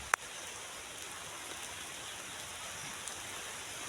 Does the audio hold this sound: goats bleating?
no